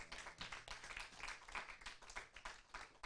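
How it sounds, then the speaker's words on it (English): An audience claps for Jeffrey in a steady, dense patter of many hands, faint and distant-sounding throughout the few seconds. "let's clap for Jeffrey"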